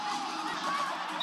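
A basketball arena crowd at a women's college game in Pullman cheers in a steady, loud, broad roar that fills the whole moment.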